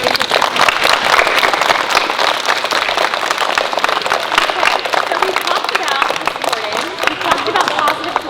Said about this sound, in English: So can everybody give a round of applause to your teachers?